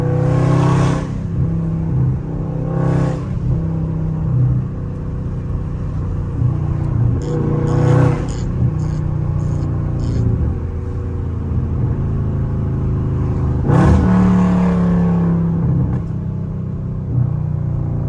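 A loud Scat Pack car engine revs repeatedly in a neighborhood, deep rumbling bursts over a steady idle, close and without speech.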